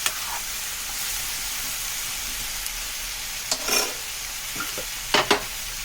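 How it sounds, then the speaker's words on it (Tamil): Okra frying in oil for a Tirunelveli-style kara kuzhambu hisses steadily while a spoon scrapes and stirs it, with a few distinct scrapes and knocks against the pan near the end. "நல்லா கிளறி கொடுத்துக்கிடணும்."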